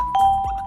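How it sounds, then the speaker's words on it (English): A bright doorbell-style ding-dong chime rings as an alert on a trading livestream, two clear tones sounding close and alone. "Guys, chill with the bells."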